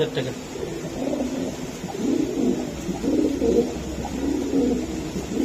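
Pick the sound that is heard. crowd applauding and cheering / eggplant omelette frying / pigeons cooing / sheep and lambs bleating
pigeons cooing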